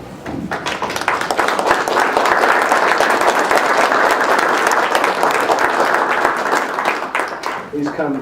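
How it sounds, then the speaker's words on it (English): A West Valley City Council meeting audience breaks into sustained, dense applause that swells quickly and holds steadily for several seconds before tapering, with some voices mixed in. "So thank you, and we applaud you."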